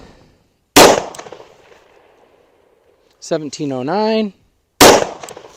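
Two sharp, loud 9mm pistol shots of Underwood 68 grain +P ammunition fired into ballistic gel, spaced about four seconds apart, with a voice speaking a number between them.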